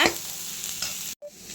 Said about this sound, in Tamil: வெங்காயம் தக்காளி பாருங்கள் வதங்கி வந்துருச்சு எண்ணெய் பிரிஞ்சு வருது பாருங்கள்